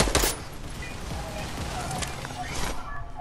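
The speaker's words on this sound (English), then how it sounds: "It's a pumpkin launcher" Fortnite pumpkin launcher firing in a game match, a burst near the start with further thumps and blasts, all under ongoing game noise and chatter.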